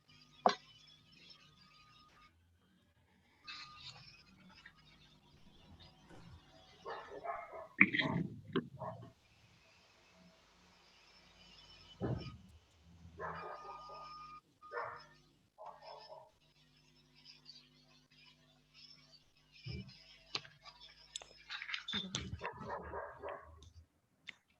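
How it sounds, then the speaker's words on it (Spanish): Dogs barking intermittently in bursts, some near and some farther off, in a quiet indoor setting with faint background hum and a voice in the room. "Los perros."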